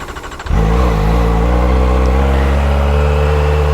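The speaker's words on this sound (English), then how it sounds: "We'll get the bike started up." A Kawasaki Ninja ZX-4RR motorcycle fitted with a large stock end can fires up after a brief starter crank, then settles into a steady, smooth idle that hums continuously and close by.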